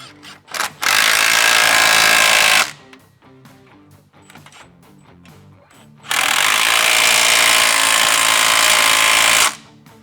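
A power tool tightens the bolts on rock slider brackets fitted to a 2005–2015 Toyota Hilux, two long loud whirring runs separated by a few seconds of clicks and handling noises.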